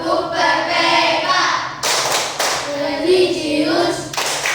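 A standing group of schoolchildren claps the PPK clapping routine, rhythmic hand claps that shift in pattern, bright and busy, mixed with children's voices and some thumps in a classroom.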